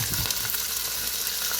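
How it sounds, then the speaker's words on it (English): Bacon frying in a pot gives off a steady, soft crackling sizzle with small irregular pops and no talking. "In this pot, I'm going to add our bacon. This also helps the grease not pop me."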